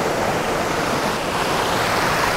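A waterfall near Ratnapura, Sri Lanka, pours as a loud, close, continuous roar of rushing water that stays steady throughout, with no voices.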